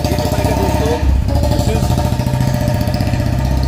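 A 2019 Harley-Davidson Forty-Eight idles close by in a loud, lumpy, steady rumble that surges briefly around the one-second mark before settling back to its pulsing beat.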